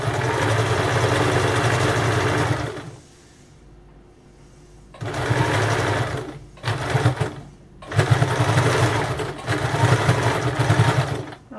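A sewing machine runs in bursts while stitching a double stitch on a blouse, loud and close, with a steady mechanical whir broken by pauses of a second or two between runs.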